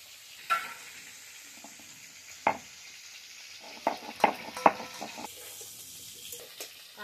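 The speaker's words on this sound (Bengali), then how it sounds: "এইদিকে জিরে ভেজে নেবো।" Cumin seeds frying in a pan give a faint, low sizzle broken by a handful of sharp pops and taps, clustered mostly toward the middle of the stretch.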